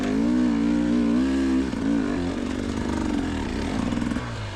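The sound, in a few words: dirt bike engine revving on a hard hill climb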